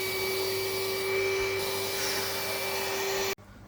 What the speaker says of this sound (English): there's that much pressure on that hoover